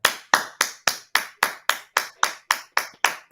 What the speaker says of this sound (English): Let's give her a clap welcome to this show tonight.